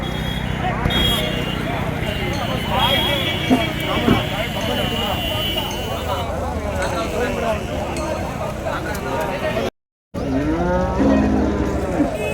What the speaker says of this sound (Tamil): ஜெர்சி மாடுங்க இப்போ தான் இறக்குனாங்க